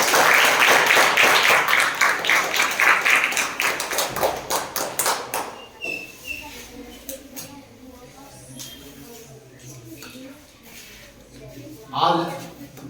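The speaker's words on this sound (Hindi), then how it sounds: "ज्वाइंट मॉर्निंग मैथ असेंबली की शुरुआत हमेशा की तरह जोरदार तालियों से" Students at a joint morning maths assembly clap loudly in a dense burst for the first few seconds; the sound then fades to quiet room tone with scattered faint taps.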